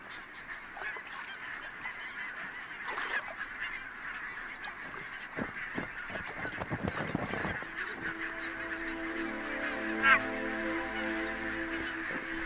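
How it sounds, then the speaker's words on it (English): Flock of barnacle geese roosting on coastal mudflats, honking in a continuous clamour of overlapping calls, with a few louder nearby honks standing out from the distant chorus. "The barnacle geese are roosting on the mudflats of Loch Endal, still recovering from their marathon flight."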